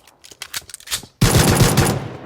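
Rapid bursts of pistol gunfire in the mobile battle-royale game PUBG Mobile, a loud, dense volley of shots that follows a quieter stretch of scattered clicks and small noises.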